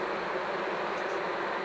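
Honey bees swarming around an open poly hive, a dense, steady, close-up buzz that holds without a break.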